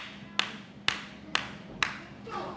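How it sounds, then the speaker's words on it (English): Four sharp, isolated claps ring out at roughly half-second intervals during a wrestling match as forearm strikes land on a wrestler's torso, each a crisp slap over a low, quiet background, followed by a softer rustle. "I bet HiTT could hear the thunder in that clap when Casey has applied the force necessary t"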